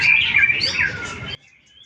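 A white-rumped shama (murai batu) sings a bright, loud, warbling phrase up close, with sliding whistled notes that stop abruptly, followed by near silence.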